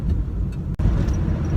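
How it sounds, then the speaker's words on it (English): Cabin rumble inside a moving 1996 Chevrolet Camaro, a low steady road and engine drone with a brief dropout partway through. "Now, my car, my 96 Camaro that we're in right now"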